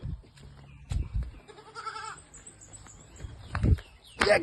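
Goats bleat in several wavering cries over a low background of rustling and faint voices.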